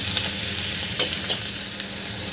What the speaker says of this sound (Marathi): भाजी घातल्यावर आपल्याला गॅसची फ्लेम थोडी मोठी करायची आहे आणि हे भाजी परतून घ्यायची आपल्याला पूर्णपणे